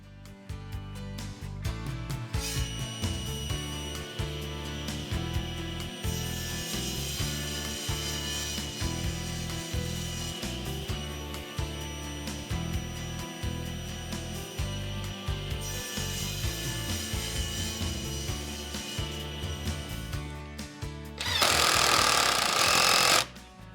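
Wooden table legs are cross-cut to length on a cross-cut sled, the saw droning loudly with rhythmic thumping and rattling throughout, then a brief harsh burst as the blade bites through near the end.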